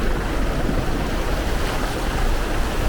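Water of the Rishi river rushes loudly and continuously around a car fording it, a dense, unbroken roar with wind-like hiss and no distinct breaks.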